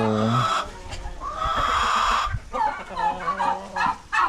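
A hen clucking close by on a farm, a run of throaty clucks and drawn-out calls in irregular bursts, with a person talking in between.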